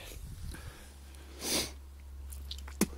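A person gives a short, sharp sniff partway through an egg challenge, standing out over a steady low hum, followed later by a brief crisp click.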